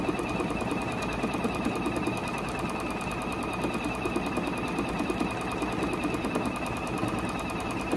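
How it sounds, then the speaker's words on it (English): A Juki DX7 sewing machine runs at a bit over half speed while stitching a label, giving a steady, rapid mechanical whir and clatter throughout with no talking. "I'm getting ready to stitch this out"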